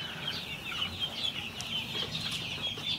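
A flock of chickens clucks and chatters continuously at moderate volume, many birds overlapping, with no speech.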